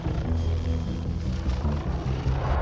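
A helicopter flying low and doing stunts around trees drones steadily with a low, throbbing rotor hum, loud and continuous with no voices.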